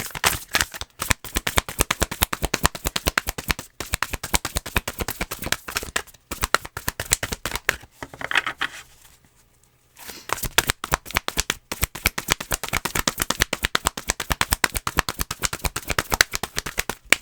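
A deck of tarot cards is riffled and shuffled over and over in quick, dense bursts. The rapid flapping runs almost the whole time, with one short pause near the middle, and nobody speaks.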